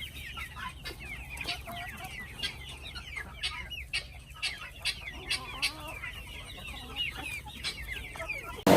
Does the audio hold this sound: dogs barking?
no